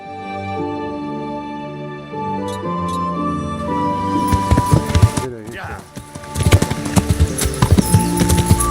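Horse hooves clip-clop in the video game Kingdom Come: Deliverance, a steady galloping patter that grows louder and busier over the game's background sound, with people talking over it.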